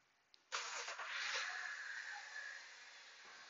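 A 2007 BMW X3 with the N52 engine cranks and starts after a short silence, settling into a steady, fairly loud running sound close by.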